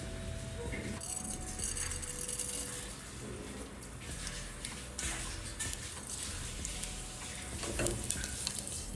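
Mustard seeds and cumin hitting hot oil in a pressure cooker for kadale kaalu sambar: a soft, steady sizzle with scattered small pops and rattles, fairly faint and close, with some background noise throughout.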